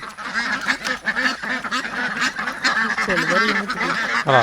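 A flock of ducks quacks continuously nearby, overlapping honking calls in a busy, noisy chorus.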